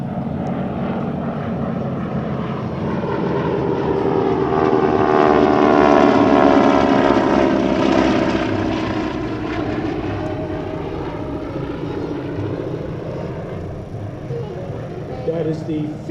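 A formation of T-6 Texan propeller aircraft passes over an air show, a loud droning engine roar that swells toward the middle and slowly fades, with an announcer talking over the public address.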